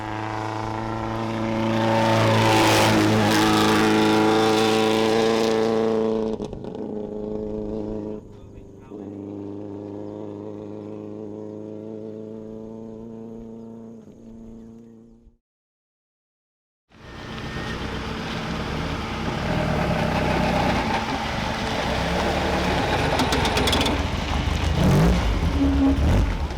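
A classic rally car at the 2023 East African Safari Classic, crippled by a faulty hydraulic regulator and unable to pass 4,000 RPM, drones at a steady rev and cuts out briefly before roaring back. Voices are heard over the engine.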